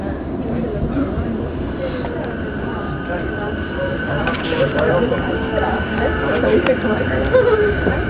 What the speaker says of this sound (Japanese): この電車は中央線快速高尾駅です